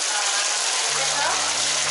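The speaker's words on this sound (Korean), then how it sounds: "펄펄 흐르는 물소리" Water rushes steadily through a dark cave, a dense, continuous hiss with a low rumble joining partway through.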